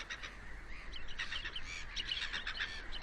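Laughing gulls and Audouin's gulls crowd a winter beach facing Tabarca island, giving repeated harsh, nasal calls that overlap at close to middle distance over a faint low rumble of surf.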